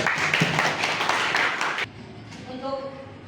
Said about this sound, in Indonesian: Oke, tepuk tangan untuk Inge dulu